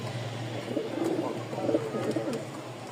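Giribaz pigeons, Rajshahi colour-matched pairs, coo softly in low, rolling bursts over a steady background hum, with no one talking.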